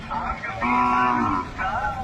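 A Khillar cow moos loudly and close by, a long low call followed by a shorter second moo.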